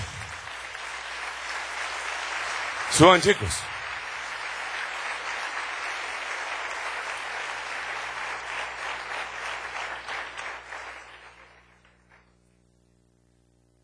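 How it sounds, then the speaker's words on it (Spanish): Steady, dense crowd applause at a church service lasting several seconds before fading out, with a brief spoken call near the start. "Dale un aplauso al Rey bendito."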